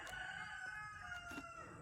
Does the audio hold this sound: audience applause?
no